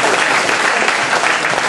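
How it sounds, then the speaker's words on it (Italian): Crowd applause at the opening of a new boxing gym, a loud, continuous wash of clapping filling the whole short stretch. "Applauso sulla fiducia."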